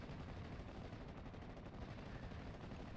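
Sustained gunfire from a Cromwell tank in the Normandy-set strategy game Steel Division: Normandy '44, a dense, continuous barrage of loud bursts with no pauses for the full three seconds.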